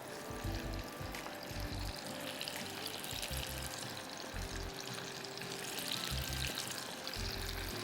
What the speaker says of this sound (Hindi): आई नो बहुत दफ़ा हाथ धोने पड़ रहे हैं